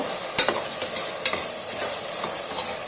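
Potatoes and capsicum fry in a pan for potato capsicum rice, with a steady close sizzle and a couple of sharp scraping stirs of a spatula.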